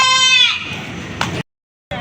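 Goats bleat at a livestock market in Padre Garcia, Batangas: one close, loud wavering bleat opens, followed by a fainter second call and some handling noise before a brief silence.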